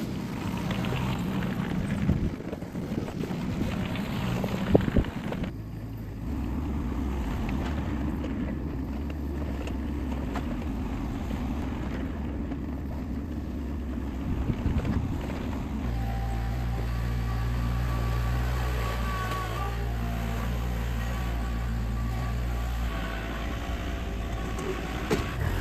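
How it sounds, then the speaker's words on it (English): Low, steady rumble of a diesel excavator engine straining as its front dozer blade pushes dirt for a gravel driveway, the tone dropping and droning heavier partway through. "I'm gonna go ahead and use the dozer blade on the front of the excavator to pile this up"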